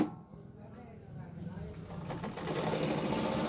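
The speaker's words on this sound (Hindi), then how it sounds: "अभी मम्मी इस पर थोड़ी सी इंटरलॉक कर रही है" Sewing machine running interlock stitching on a suit in a home boutique, a steady close whirring hum that grows louder and denser over a few seconds.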